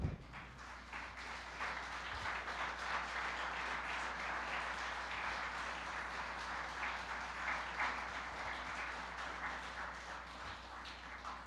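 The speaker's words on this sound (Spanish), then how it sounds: "Dale un aplauso al Señor." A church congregation applauds during a sermon, a continuous, moderately distant wash of clapping from many people that holds steady throughout, with a low hum beneath it.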